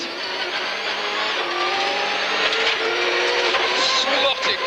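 A 1997 Subaru Impreza S3 WRC rally car drives fast on tarmac roads, its engine revving hard and climbing through the gears with a loud, close, raspy note and brief tyre noise.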